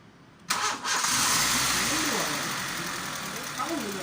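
A warm Honda Civic engine cranks briefly and catches on the first try, then settles into a loud, steady idle close by, with a slight change in tone near the end.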